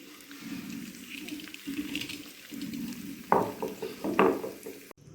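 Green chilli, garlic and peanuts are pounded and crushed with a pestle. Soft scraping and grinding runs throughout, with sharper, louder knocks toward the end, and no voices.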